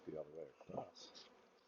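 Honey bees buzz softly in a single deep insulated hive opened for a spring inspection in the upper Midwest, a faint, steady hum with a brief murmuring voice near the start.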